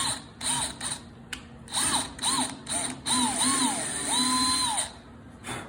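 Power drill run into a wooden Adirondack chair part to chase a screw hole, whining in several short bursts that rise and fall in pitch, then one longer steady run, fairly close.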